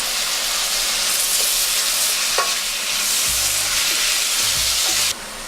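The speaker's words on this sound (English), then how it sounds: "So stir it together for about 2 seconds." Shrimp curry with tomato sizzles loudly in a frying pan while being stirred, a constant hissing fry with scraping stir sounds and a few low knocks.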